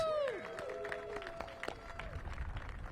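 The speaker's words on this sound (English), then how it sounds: "Give Ward 8 a round of applause." Crowd applauding at an outdoor civic celebration for Ward 8 and the MLK Gateway project, scattered claps from a modest gathering with cheering voices at the start, fairly faint and fading out.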